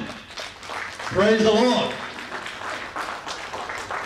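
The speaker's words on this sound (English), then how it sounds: "Let us stand up, all of us, and we clap for them." Congregation clapping at a church launch service, a modest spread of hands under a voice speaking clearly over it.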